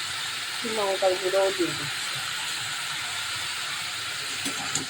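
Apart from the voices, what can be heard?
vegetables frying in a pan with spices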